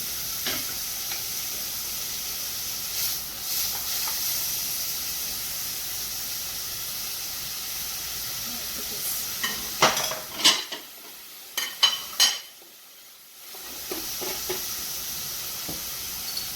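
Hot pan with onions sizzling and cooking liquid splattering while salmon is poached, with clatter of utensils against cookware; steady frying hiss broken by several sharp spits and clinks, then a brief lull.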